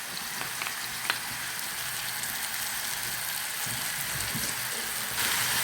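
Onion and garlic frying in ghee for an Algerian potato dish, a steady close sizzle and crackle running the whole time with a few sharper pops, no talking.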